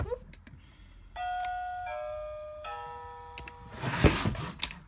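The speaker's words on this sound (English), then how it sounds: "each of the doorbells makes a different sound as well" A Melissa and Doug wooden doorbell house toy rings with a chiming electronic melody of several sustained stepped tones, followed by clattering handling noise and knocks near the end.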